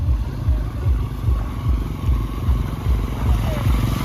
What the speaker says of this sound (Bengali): এরকম বাইকও পারাপার হচ্ছে।